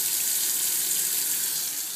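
Water runs from a tap into a sink where a kitten plays, a steady close rushing splash that continues evenly throughout with no voices.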